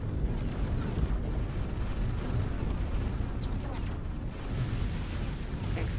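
An explosion in a space combat video game rolls out as a sustained low rumble with a dense, roaring body, steady and loud across several seconds with no clear voice on top.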